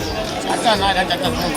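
Morning crowd at the Mumba Devi temple in Mumbai, a dense murmur of many overlapping voices close by, busy and continuous.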